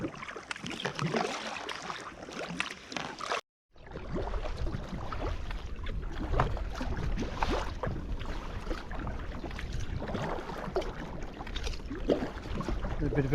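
Paddling a small boat into a light breeze on open water: steady soft splashes and water wash with broadband wind rush on the microphone, continuous and fairly close, with a brief dropout early on.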